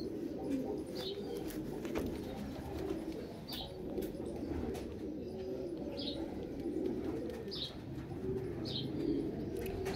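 Pigeons coo in soft repeated calls, with a few light chirps over a low, murmuring background.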